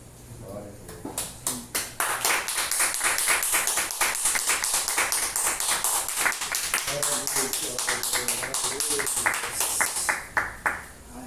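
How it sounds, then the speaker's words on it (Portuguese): A church congregation claps in praise, many hands producing rapid, irregular claps that build into sustained applause over the full stretch, with voices speaking and calling out underneath. "E aplauda ao Senhor Jesus."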